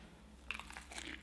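A single quiet crunch as teeth bite into a giant homemade french fry, a short crisp burst followed by a few softer crackles of chewing, close and alone.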